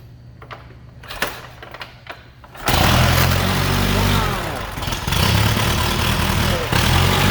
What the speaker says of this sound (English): It starts right up. Sounds like a tractor.